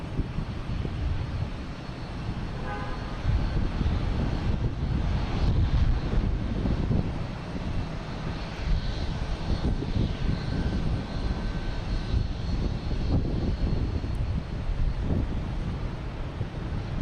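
A airliner in oneworld special livery passes at Boston Logan Airport, its engine roar a steady, loud broadband rumble that holds for the whole stretch, with wind buffeting the microphone.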